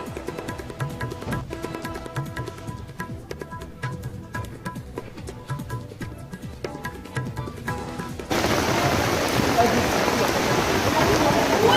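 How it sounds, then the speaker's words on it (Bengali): Heavy rain falls on protesters standing under a tarpaulin outside a health building; sharp patters of drops strike the sheet before a dense, continuous roar of downpour takes over, with a voice talking throughout. "তুমুল বৃষ্টি চলছে"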